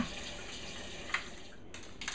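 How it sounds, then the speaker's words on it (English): Water running from a tap into a pan holding chicken, a steady close splashing stream with a few brief louder splashes toward the end. "Put my chicken back in with clean water."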